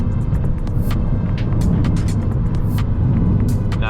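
An Abarth 595 Turismo's engine throbs and hums steadily from inside the car while driving in traffic, loud and continuous, with faint clicks and brief hissing bursts over the drone.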